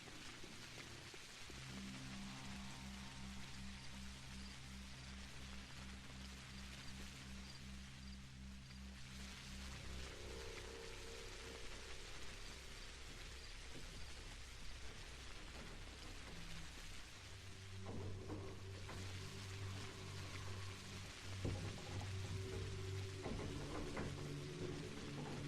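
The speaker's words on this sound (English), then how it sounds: "And once again, it's raining." Rain falls steadily in the game Pathologic Classic HD, a soft continuous patter and hiss that sits under low, sustained tonal music and carries on for the whole stretch without any voices.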